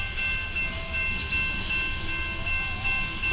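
A two-engine CSX freight train with a distributed power unit rolls past steadily at close range, a continuous loud rumble of cars with faint tonal whine, no talk.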